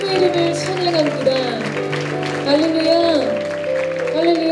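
A church congregation claps together during a worship service, a steady wash of applause running under loud sustained music and singing.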